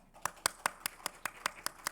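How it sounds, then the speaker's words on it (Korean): A church congregation claps in welcome during Sunday worship, about nine distinct, evenly spaced claps in a steady rhythm, fairly faint and at a distance in a quiet hall. "우리 박수로 환영하겠습니다"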